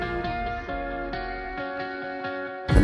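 An electronic drop from a remix plays as layered synth chords with bass notes that bend and wobble. A sudden bright, loud burst hits at the very end, and there are no voices over it.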